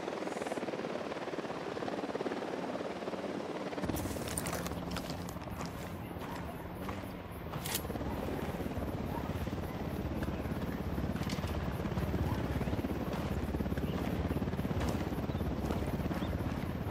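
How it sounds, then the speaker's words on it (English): A helicopter's rotor thrum and engine roar rise and hold steady, loud and continuous, with scattered game noises and clatter layered over it, in the video game Ghost Recon Wildlands. "Helicopter inbound."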